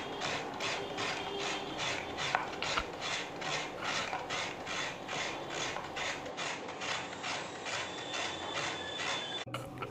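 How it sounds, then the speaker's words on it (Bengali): Coconut is grated from a half shell in quick, regular rasping strokes, close and rhythmic, about two scrapes per second with no talk over them. "নারকেলটাকে আমি অল্প একটু নেব, হাফ মালা থেকে অল্প একটু কুড়ে নিয়ে নেব"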